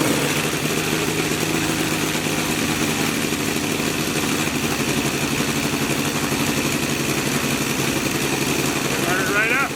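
A Saito FG 60cc R3 model engine runs loud and close, with a steady, unbroken mechanical drone and no pause across the stretch.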